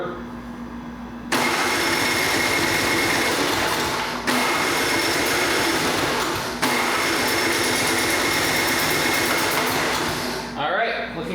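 A John Deere 1032 snowblower's engine turns over on its electric starter with no fuel, three long steady grinding cranking bursts close by, separated by brief pauses, with a voice heard at the very end.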